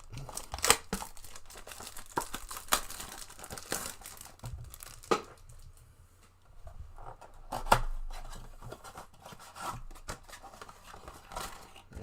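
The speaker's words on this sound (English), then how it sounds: "Let's open these boxes up and see if we can get some nice cards." Cardboard boxes and foil packs of Formula 1 trading cards being opened by hand, with steady crinkling, tearing and rustling at close range, broken by sharper rips and crunches.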